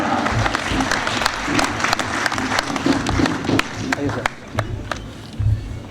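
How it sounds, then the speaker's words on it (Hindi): Audience clapping at the Taoni Rajput 2nd Annual Function in Faisalabad comes in sharp, uneven bursts, with voices talking over it. "आपकी तालियां सर, ये ख़त्म नहीं होनी चाहिए"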